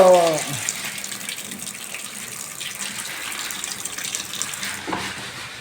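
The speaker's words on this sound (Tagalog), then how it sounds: "Ang lakas ng tulo." Water gushes steadily from a bathroom tap, a constant hissing splash close to the microphone, with a brief squeak at the start.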